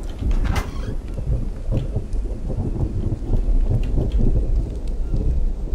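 Steady rain pours down with low rumbling thunder rolling underneath in a video game, a dense, continuous wash of sound with no voices.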